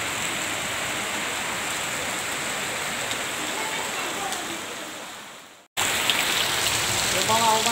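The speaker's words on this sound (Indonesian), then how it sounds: "Airnya sangat deras sekali." Floodwater from a flash flood rushes through a village in Grobogan, Central Java, a loud, steady roar that cuts out for a moment before resuming at full strength.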